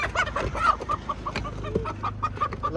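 Chickens cluck in quick, uneven bursts at close range, with several birds calling over one another in a continuous chatter and no talking.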